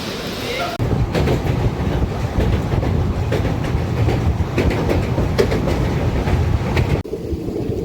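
A train runs on the rails, the Charlapalli to Velankanni Thiruvarur Special Express nearing Tenali junction. A brief quieter moment gives way to a loud, steady rumble with rhythmic wheel clatter close by, then it eases slightly near the end.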